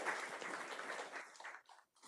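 Scattered audience clapping follows a scientific talk at a chromatin research meeting, faint and thin, thinning out and ending in brief isolated claps.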